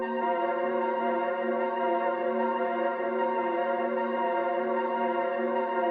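A dark, simple, repetitive synth chord pattern made in FL Studio sustains as a steady, even drone of stacked tones with a soft effects sheen, played alone at moderate volume.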